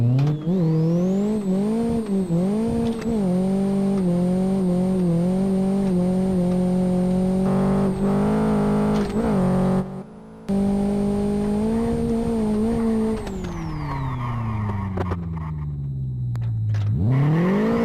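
A Renault Megane with a tuned engine drifts in reverse, its engine droning and rising and falling in pitch over a long continuous run while a high tire squeal sings above it, then revs back up after a brief drop.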